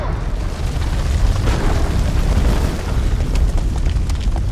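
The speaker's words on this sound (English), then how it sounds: "Grenade!" A grenade detonates in the horror video game House of Ashes, a loud, sustained rumbling blast with dense low-end roar that swells and rolls on for several seconds without voices.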